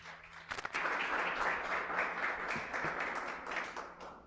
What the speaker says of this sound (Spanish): Vamos a recibir un aplauso a nuestro pastor en esta mañana.